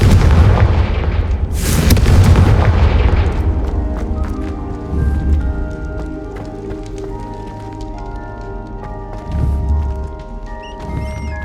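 Fiery Confringo spell explosions in the Hogwarts Legacy video game boom loudly, one big blast followed by a long rumbling decay and scattered crackling debris, with smaller echoing thuds later.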